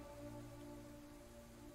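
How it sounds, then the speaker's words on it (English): Faint steady rain falling in the video game Unexplored 2, a soft even hiss behind quiet tonal game ambience. "It's raining, not snowing."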